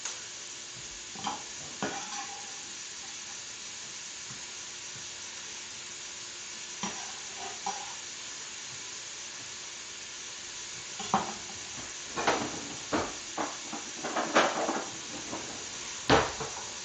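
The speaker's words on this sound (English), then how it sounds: "It's got that good sizzle" Onions frying in hot oil in a pan give a steady broadband sizzle throughout, with stirring scrapes and clatters rising toward the end; no one speaks.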